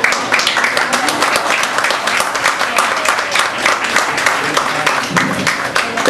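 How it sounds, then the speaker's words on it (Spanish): A crowd applauds steadily throughout, dense clapping from many hands with no pauses, fairly loud and close. "a los lados está acompañada de dos Fridas, para quienes yo también pido un aplauso"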